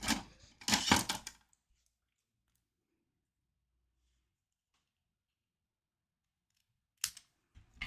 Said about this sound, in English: I'm just going to trim that down with a pair of scissors.